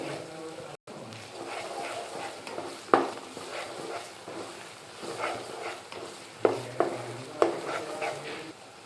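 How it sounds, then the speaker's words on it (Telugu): Ginger garlic paste fries in a pan with a steady close sizzle, while a spoon stirs it in scraping strokes and a few sharper knocks against the metal, under faint talk. "ఇలా ఎగేటప్పుడు అల్లం వెల్లుల్లి పేస్ట్ 1 స్పూను, ఇది పచ్చివాసన పోయే వరకు వేయించుకొని"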